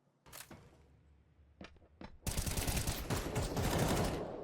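Gunfire in the video game Counter-Strike 2, a few sharp separate shots early on, then a dense, sustained burst of rapid fire through the second half, moderately loud with no talk over it.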